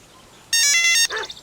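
A telephone ringing in a tonal, electronic ringtone burst that starts abruptly and sounds loud and close for about half a second, then trails off into a softer echoing tail, with no voices.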